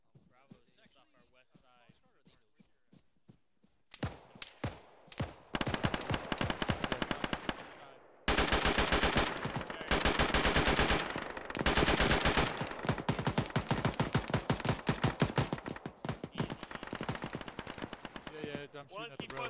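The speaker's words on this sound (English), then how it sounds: "Too bad we don't have radios to let them know that they're shooting friendlies." Gunfire in the military video game Arma, starting with sparse single shots and then giving way to dense, loud rapid automatic bursts that keep rattling with brief gaps.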